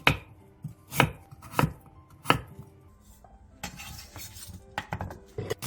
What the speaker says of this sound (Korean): 7cm 두께의 무 한 토막을 1cm 정도 두께의 한 입 크기로 큼직하게 잘라주세요.